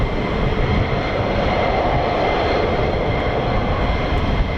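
An F-15 fighter jet flies at RAF Lakenheath, a loud, steady, broad engine roar that holds constant throughout, close and with no talk.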